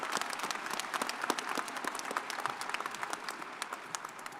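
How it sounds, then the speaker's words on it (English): Audience applause at a university commencement ceremony, steady clapping from a crowd at moderate distance, continuous throughout. "Let's give them a round of applause."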